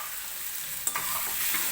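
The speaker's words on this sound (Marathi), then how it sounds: "हिरवी मिरची आपल्याला तेलामध्ये भाजून घ्यायची आहे" Green chilli paste with garlic and curry leaves frying in oil over a low flame: a steady close hiss of sizzling broken by a sharp clack of a spoon against the pan partway through.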